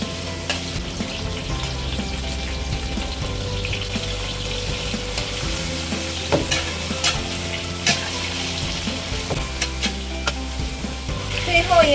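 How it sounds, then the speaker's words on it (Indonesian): Green beans stir-fried in a wok after frying eggs, with a steady loud sizzle and repeated scraping stir strokes of a spatula against the pan throughout, no talking. "kita goreng sebentar bahan-bahan ini"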